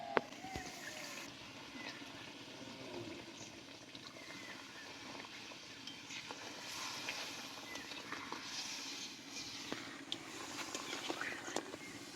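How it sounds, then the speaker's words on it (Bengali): Coconut milk is poured into a pan of whole pointed gourds (potol) cooked in well-fried spice paste, giving a steady, soft liquid trickle and splash that runs continuously under faint kitchen background noise. "এবার আমি নারকেলের দুধটা দিয়ে দেবো"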